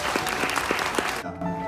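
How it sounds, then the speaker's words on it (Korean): Wedding guests at a ceremony applaud in a dense, steady burst with scattered cheers, then the clapping drops away as music comes in. "여러분 큰 박수로 환호해 주시기 바랍니다."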